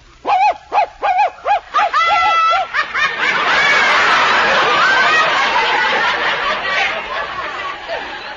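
A human voice imitates a small dog with quick, repeated yapping barks, then breaks into a dense, noisy burst of wild, laughing chatter.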